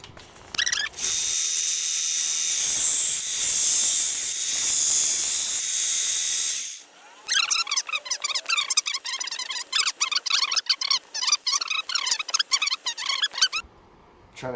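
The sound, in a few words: grinding a knife blade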